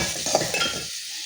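Onions sautéing in a pan for tomato rice, a close sizzle with spoon stirring and metallic clinks against the pan, cut off abruptly into near silence after under a second.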